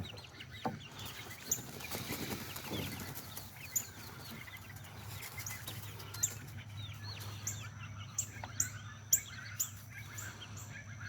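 Chickens cluck and murmur softly nearby, with scattered short calls over a low steady background hum.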